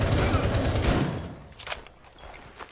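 Heavy gunfire in a first-person shooter game bursts loudly at first, then thins into scattered distant shots and faint noise, with a voice briefly heard.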